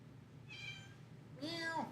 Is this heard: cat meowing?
yes